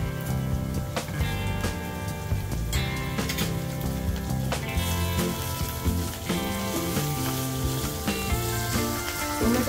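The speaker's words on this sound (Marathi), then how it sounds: "कांदा गोल्डन ब्राउन झाला की त्यात टोमॅटो टाकून घेऊया बारीक चिरलेला।" Chopped tomatoes go into oil with golden-brown onions for dal tadka, and a dense crackling sizzle with fine popping spatters runs steadily throughout at moderate level, with no talking.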